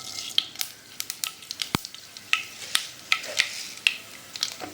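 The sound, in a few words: mustard seeds sizzling in hot oil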